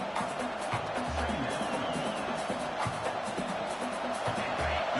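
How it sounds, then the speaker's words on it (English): Loud, continuous roar of a packed college football stadium crowd with cheering swells, filling the air without a break. "listen to this crowd noise. This stadium is vibrating."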